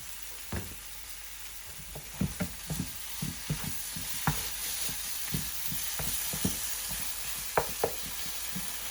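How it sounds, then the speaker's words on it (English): Rajma spices being stirred with onion and tomato in a hot pan, a steady close sizzle broken by irregular scraping knocks of the spoon against the pan. "You need to mix this with the onion and the tomato."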